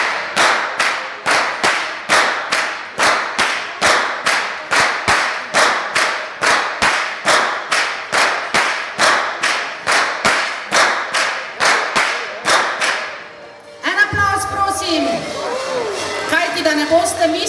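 Traditional whip crackers at the Ptuj carnival snap their whips in a long, regular series of sharp, loud cracks close by. The cracking ends in crowd noise and speech.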